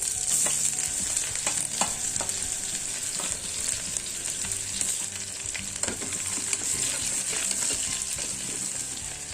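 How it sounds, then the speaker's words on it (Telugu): Chopped onions frying in a pan with cumin, mustard seeds, cardamom, cinnamon, cloves and a bay leaf for mint pulao, a steady close sizzle with scraping stirs throughout. "ఒక బిర్యానీ ఆకు, అందులోనే తరిగిన ఉల్లిపాయలు వేసుకోవాలి."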